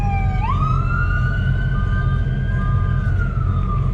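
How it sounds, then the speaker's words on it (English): A loud wailing ambulance siren rises and then holds a long steady tone over constant road rumble, fading slightly as it moves past. "Ambulance."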